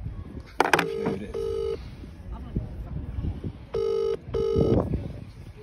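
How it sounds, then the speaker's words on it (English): A phone call rings out on a mobile handset: keypad beeps, then repeated ringback tones in paired bursts, loud and close, with some background noise between them. "I'm gonna ring them."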